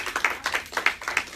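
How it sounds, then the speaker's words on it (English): A small group claps at a live health and weight-loss event, a brief patter of distinct, fairly close handclaps in a loose rhythm with no voices. "Let's give Richard a round of applause."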